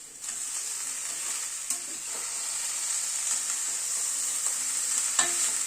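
Spring onion stalks being stirred into vegetables frying in a pan, a bright constant sizzle with a few scraping clacks of the spatula against the pan, close and uninterrupted.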